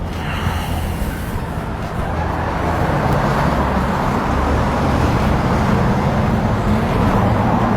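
Car traffic on a street, a loud continuous roadway rumble with a vehicle passing close by, steady throughout with no voices.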